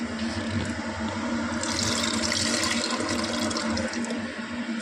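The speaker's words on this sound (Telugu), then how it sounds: "ఇంకా చింతపండు నీళ్ళు వేస్తాం" Tamarind water pours into a cooking pot in a steady, continuous stream, producing a close liquid rush with splashing that holds at an even level throughout.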